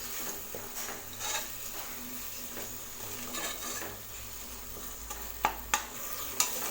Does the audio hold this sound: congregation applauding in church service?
no